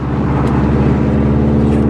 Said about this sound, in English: You don't get tired of the way this car sounds